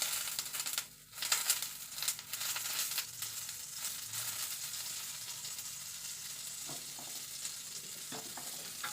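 Capsicum frying in hot oil in a home kitchen pan, a steady close sizzle and crackle with occasional stirring scrapes, and no voices.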